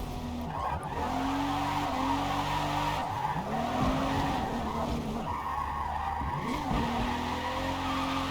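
Tires screech continuously as a car drifts in Forza Motorsport, the squeal swooping up and down with engine revs, loud and up close for the whole stretch with no voices.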